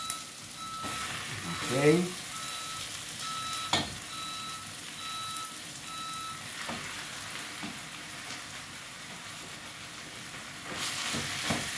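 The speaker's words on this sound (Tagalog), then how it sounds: "Ito ilalagay na natin ang ating giniling na baka." Ground beef hits a hot pan and sizzles with a steady hiss and occasional stirring scrapes, while a beeping tone sounds intermittently in the background and a voice speaks briefly.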